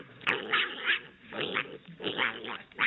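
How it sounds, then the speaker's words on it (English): Angry dogs growl and snarl in repeated rough bursts, close and fairly loud, reacting to something placed on their faces. "He's growling."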